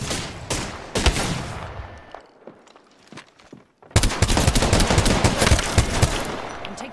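Bursts of automatic gunfire crackle in the Apex Legends shooter, a rapid volley that drops to a brief lull with scattered shots and footsteps, then resumes as loud, sustained fire.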